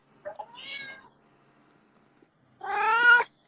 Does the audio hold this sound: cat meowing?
yes